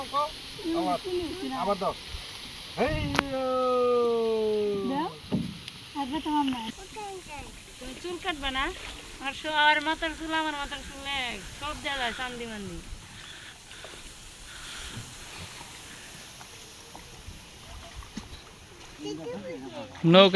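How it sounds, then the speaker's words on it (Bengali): Water splashing and lapping around a small boat that keeps running aground and being pushed along, with people talking and calling out over it throughout. "নৌকা"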